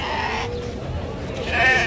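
Goats bleat at a goat and livestock fair, with a wavering bleat rising near the end above a busy crowd murmur.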